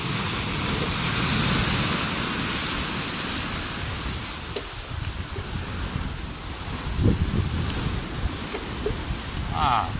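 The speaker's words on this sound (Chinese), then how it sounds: "还可以听海浪的声音。" Ocean waves break on the shore beside a seaside star tunnel, a steady broad wash of surf blended with wind, continuous and fairly loud throughout with a low rumble underneath.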